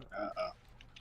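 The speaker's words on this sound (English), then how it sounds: "these guys, the frogs, or the little Nars" Small frog creatures in Serious Sam 2 croak twice in quick succession, short tonal ribbits, faint and close, with softer chirps trailing after.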